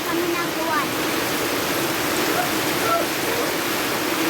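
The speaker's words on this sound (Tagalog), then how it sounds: "Grabe na naman yung ulan, friendship." Heavy rain pours down steadily, a dense, loud, unbroken hiss filling the whole stretch, with a few faint high chirps poking through the wash of water.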